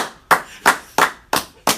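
Five sharp, evenly spaced hand claps for a guest on a sports podcast, close and distinct, roughly three per second with no talk over them.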